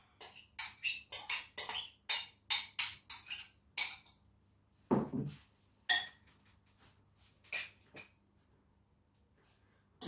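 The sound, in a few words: mixing melted butter into breadcrumbs in a bowl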